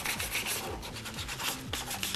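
Hand sanding on a surface being finished with an imitation leather technique: steady rhythmic abrasive rubbing strokes, close and continuous, with a fairly even pace of back-and-forth scraping.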